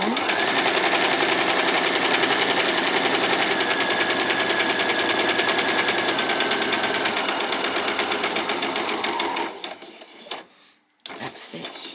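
A sewing machine stitches a fabric headband in a steady, rapid mechanical chatter for about nine seconds, then stops abruptly, leaving a few faint clicks and handling noises.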